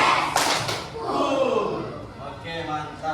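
Classroom of pupils doing a rhythmic clap chant in counted groups, sharp hand claps bursting in clusters amid children's voices and chatter, close and fairly loud.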